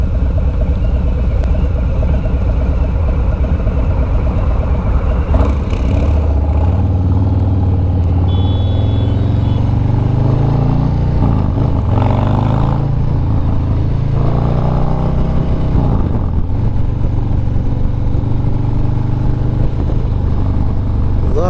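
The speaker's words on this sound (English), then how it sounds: "Love the sound of that exhaust." Exhaust from a 2020 Harley-Davidson Low Rider S with the 114 motor: a deep, loud, continuous rumble that swells with throttle in the middle, heard up close without speech.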